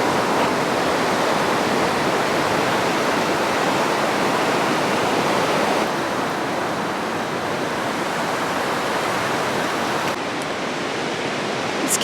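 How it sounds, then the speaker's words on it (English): Sea water rushes and washes steadily along a beach shore, a dense and continuous roar with no voices and no distinct breaks. "listen to the sound of the water"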